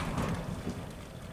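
Gusty wind rumbles and buffets against a shed in low, uneven bursts, a muffled blustery noise with no voices.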